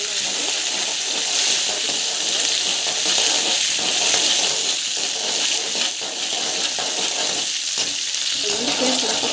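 Cumin seeds and green chillies frying in hot oil with mustard seeds for semiya upma, a loud continuous sizzle with crackling and faint stirring, no talking.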